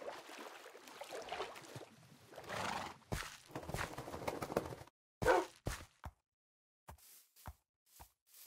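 A Minecraft horse neighs and whinnies, then trots with clip-clop hooves through short, separate bursts, close and clear with no talking.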